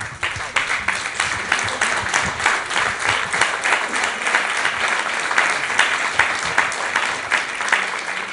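An audience at a literary talk with Jean Echenoz and Giorgio Pinotti at the Centre Pompidou claps for the two speakers, giving dense, steady applause with distinct individual claps, fairly close and lasting throughout.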